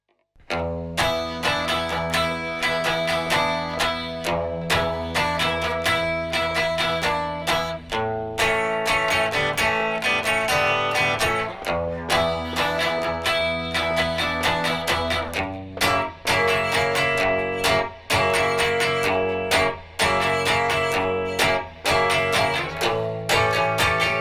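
An electric guitar plays the first verse of a song, a continuous strummed passage with chords and melodic lines, steady and prominent for the whole stretch, with no voices.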